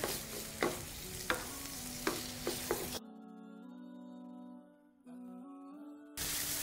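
Mince and peas sizzle in a pan, with a few distinct stirring scrapes over the frying hiss before the sound drops to a quieter steady sizzle.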